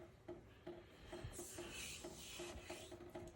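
An S35VN steel knife blade is drawn across a Rockstar 320 grit whetstone, making quiet, regular rasping strokes that repeat back and forth at close range with no voices.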